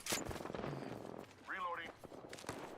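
Enemy squad gunfire in Apex Legends, a dense stretch of rapid distant shots and crackling impacts running throughout under other game noise.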